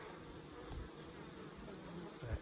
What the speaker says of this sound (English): I got a big old yellow hornet trying to steal bees.